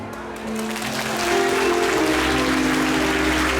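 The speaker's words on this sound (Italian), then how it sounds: "per i quali anticipatamente sulla fiducia vi chiedo un applauso" A crowd at an Italian orchestra dance evening applauds, starting softer and swelling to a sustained, even wash of clapping under a faint musical tone.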